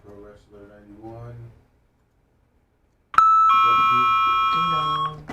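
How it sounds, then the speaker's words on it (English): A doorbell chimes once, loud and close, its ringing tone ringing out and slowly fading, after someone speaks briefly and a short silence passes. "Ding dong."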